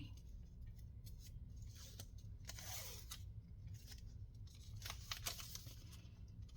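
Scissors cut paper for a denim and lace trifold junk journal, making faint, close snips and crisp paper rustles in irregular bursts over a quiet room hum.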